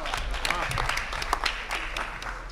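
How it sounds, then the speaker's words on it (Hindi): Audience at a Hindi poetry recital clapping in a dense, continuous wash of applause, moderately loud and fairly even throughout with no speech over it. "ये जो तालियां आप बजाते,"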